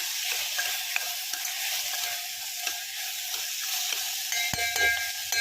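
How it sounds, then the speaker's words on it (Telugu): Spiced onion and tomato masala with turmeric and chili powder, for a dhaba-style garlic fenugreek dish, is stirred in a pan. A steady close sizzle runs throughout, with repeated light spoon scrapes and taps and no talking. "బాగా కలిపేసుకొని"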